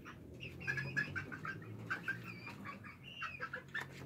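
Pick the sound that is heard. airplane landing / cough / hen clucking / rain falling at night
hen clucking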